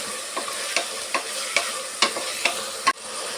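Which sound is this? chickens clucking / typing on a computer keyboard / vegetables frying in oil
vegetables frying in oil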